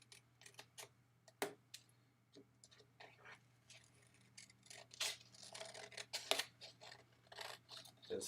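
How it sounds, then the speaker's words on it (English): Scissors cut paper for a collage-style cartoon, making a run of close, crisp snips and crunches at an uneven pace, some louder than others, over a faint steady hum. "I'm going to cut this part out"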